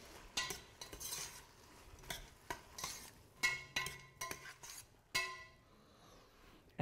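Ground black pepper and cinnamon being stirred into a pot with a utensil, giving a run of scraping, clinking strokes at an uneven rhythm, close and fairly quiet, with no talking.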